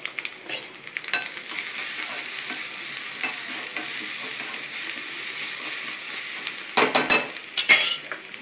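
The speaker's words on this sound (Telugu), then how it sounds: "అది వేగేటప్పుడు కచ్చా పచ్చగా దంచుకున్నటువంటి వెల్లుల్లిపాయ ముక్కలను కూడా ఇందులో వేసుకోవాలి" Crushed raw garlic pieces frying and being stirred in a pan while cooking pappu, a steady close sizzle with scraping stirs and a few louder clinks of the utensil against the pan near the end.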